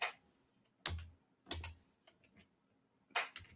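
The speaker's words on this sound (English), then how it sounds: "I have the second loudest keyboard in the entire planet, according to my friends." A few sharp, isolated clacks from a very loud computer keyboard, spaced out and faint overall, with quiet gaps between the strokes.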